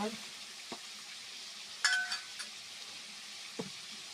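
Pork frying in a pan early in the morning gives a steady, close sizzle and hiss, broken by a few brief stirring clinks and spatters.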